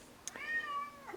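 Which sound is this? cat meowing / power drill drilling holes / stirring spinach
cat meowing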